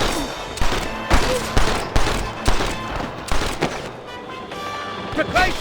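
Shootout in Red Dead Redemption, with a rapid run of close, loud gunshots and thuds firing in uneven bursts. Shouting voices break in over the shots.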